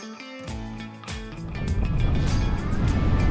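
A sailboat's engine turning over and catching while at anchor, rising from a brief tonal whine into a steady, loud low rumble that holds to the end.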